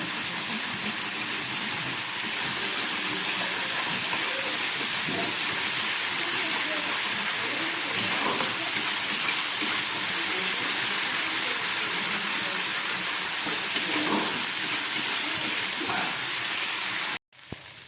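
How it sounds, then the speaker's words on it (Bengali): Spice masala fries in a pan after the spice-rinse water is added, a loud continuous sizzling hiss that holds steady and close throughout, then cuts off abruptly near the end. "মশলা ধোয়ার জলটা আমি এর মধ্যে দিয়ে আরও ভালো করে মশলাটাকে কষিয়ে নেব"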